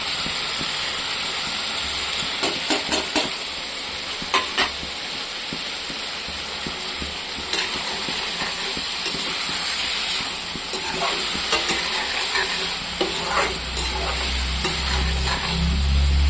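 Potato and eggplant fry in a pan with turmeric and spices, a steady close sizzle running throughout with scraping clicks of stirring, heavier in bursts around the start and middle.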